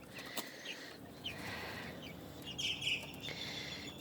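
City chickens waking up cluck softly and give a few higher chirping calls, faint against a quiet outdoor background with no talking.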